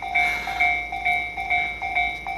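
A level crossing bell on a Tobu Railway line rings in a steady, evenly spaced pulse, loud and near, with no train clearly audible beneath it.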